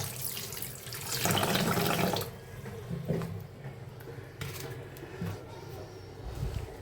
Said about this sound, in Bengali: চালটাকে আমি খুব ভালো করে হাত দিয়ে কচলিয়ে কচলিয়ে ধুয়ে নিচ্ছি